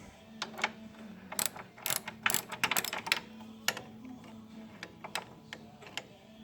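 A ratchet turns a 9/16 bolt during rock shaft removal on a John Deere 2010 tractor, clicking in fast close bursts of ratcheting that pause and resume, with lighter metallic taps toward the end.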